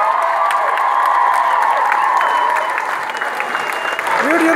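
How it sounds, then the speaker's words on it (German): Outdoor festival crowd on a market square in Fürstenwalde applauding Hannelore Holze, loud continuous clapping mixed with cheers and a few whoops, voices calling out over it. "Großen Applaus für Hannelore Holze!"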